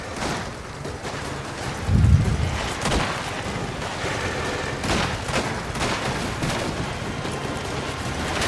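Gunfire in the Mafia: The Old Country video game crackles as a dense, ongoing fusillade of shots with a heavier boom near the start, loud and continuous amid battle noise.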